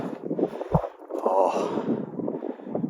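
Wind gusts across the microphone on a mountainside in the New Zealand high country, a close rumbling buffet that swells and eases, with a short breathy gasp-like noise near the start.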